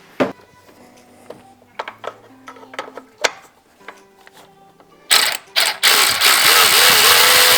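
Ratchet working a nut off the brackets on the top end of a 2003 Ford Mustang GT engine, giving a string of sharp close clicks and clacks, then a loud sustained burst of mechanical noise near the end.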